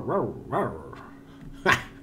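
Barking and whimpering from robot dog battle pets in the game World of Warcraft: Battle for Azeroth, several short yips close together, then a sharper bark near the end, with no talk over them.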